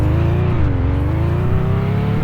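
A BMW E38 engine in the Roblox driving game drones steadily and loudly, its pitch dipping slightly and then climbing again as it revs, with no other sound over it.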